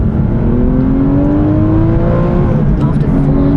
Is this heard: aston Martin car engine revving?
yes